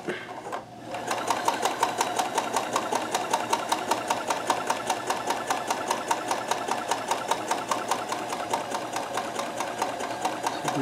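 A Kenmore 158.1914 sewing machine chain stitches fabric in a fast, even, steadily pulsing whir that starts after a brief quiet moment and runs on close and unbroken.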